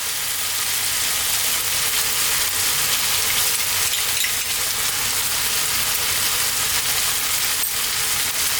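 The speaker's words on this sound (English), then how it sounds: "And now we're going to put the spiced butter or the kibe in." Spiced Ethiopian butter (kibe) hitting lamb siga tibs frying in a pan, producing a loud, dense, unbroken sizzle with a crackling hiss that fills the whole stretch, close up and without any voices.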